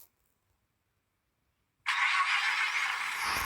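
A rotary-engine car in the driving game Drive World fires up after a long silence, its engine catching abruptly and settling into a loud, buzzy idle with a raspy exhaust note.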